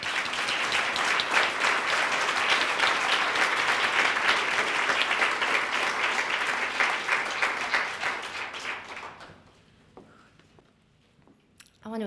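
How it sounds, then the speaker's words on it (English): Summit audience applause, a dense crowd clapping loudly and evenly for about nine seconds before thinning out to a few scattered claps and near quiet. "we can let them know by our applause right now, that they can trust us with their stories"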